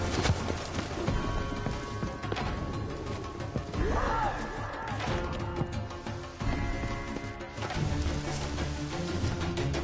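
A horse gallops in The Witcher 3, steady hoofbeats pounding under a busy game mix of music, clattering and effects throughout.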